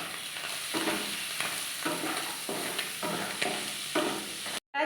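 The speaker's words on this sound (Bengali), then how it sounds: "আর দিয়ে দেব এই টমেটো কুচি আর লঙ্কা কুচি।" Chopped tomato and chilli frying in a pan, a loud continuous sizzle with rhythmic stirring scrapes recurring every second or so, close up, cutting off abruptly near the end.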